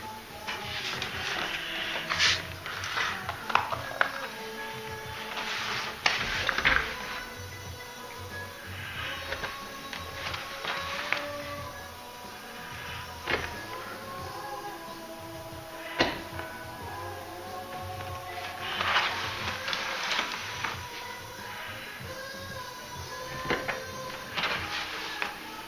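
Notches are cut out of a handmade leather clutch bag: irregular snips and scrapes with squeaky, creaking tones come close and moderately loud, with pauses between bursts and no talking.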